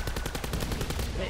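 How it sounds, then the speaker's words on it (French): Gunfire from a weapon in Call of Duty Black Ops 4, Blood of the Dead zombies mode, crackles as a rapid, steady string of loud, close shots throughout, with faint voices underneath. "Non mais décode pas hein, tire avec ton arme hein."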